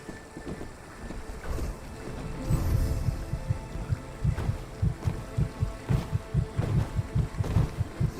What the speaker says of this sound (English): not only the heartbeat sound for stealth, but also the footstep sound